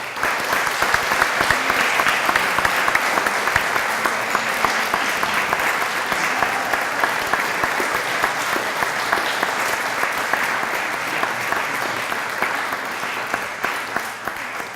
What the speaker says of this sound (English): Can we just give the coaching staff a round of applause?